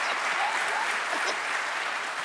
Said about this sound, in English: now that you clapped hands